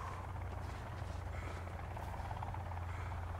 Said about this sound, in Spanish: ¿Ha despegado de aquí mismo el helicóptero?